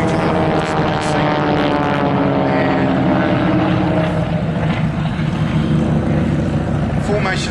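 A pair of Harvard aircraft passes overhead at the Classic Fighters airshow at Omaka, a loud, steady propeller-engine drone that holds throughout.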